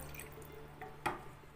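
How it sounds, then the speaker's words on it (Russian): Homemade coconut milk is poured into a container, with quiet liquid trickling and a single sharper drip-like splash near the end of the brief clip. "Мы наливаем его в посуду."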